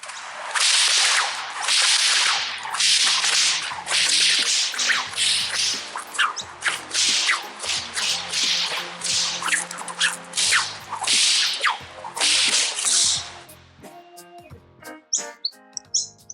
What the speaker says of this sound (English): Yeah, I'm a bit of a whip cracker.